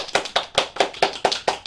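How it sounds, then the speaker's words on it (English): Podcast hosts clap their hands together in a steady rhythm of about eight crisp, close claps, clear and alone with no talk over them. "Everybody clap your hands."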